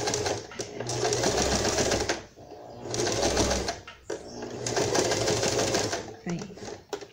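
A sewing machine stitches small doll clothes for a Barbie Wonder Woman outfit, running in three bursts of rapid mechanical whirring with brief pauses between them while someone talks over it.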